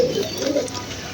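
Pigeons feeding on broken grain give a short, soft cooing burst nearby, brief and fairly quiet.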